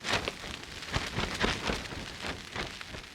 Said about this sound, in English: It's about hour 12 of rain, and the wind really got going and it shakes the tent.